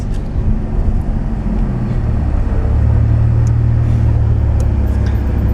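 A Wiesman MF-5 Roadster with a BMW S85 V10 engine, driving in Monte Carlo, gives a steady, loud low engine drone that holds near and even throughout, with no talk over it.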